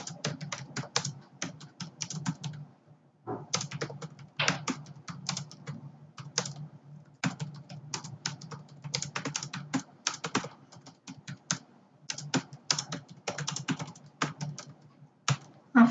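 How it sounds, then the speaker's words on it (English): Keys clatter on a computer keyboard in quick bursts with brief pauses, close and steady throughout. "After typing your message, send message."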